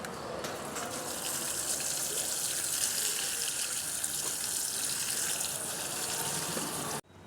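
Running tap water pours steadily over soaked black chickpeas in a kitchen sink, a continuous close gush that cuts off abruptly at the end.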